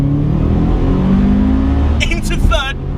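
A two-door Subaru Impreza Type R pulling hard in second gear from around 3,000 RPM, its engine note loud and rising steadily, with someone talking briefly over it toward the end.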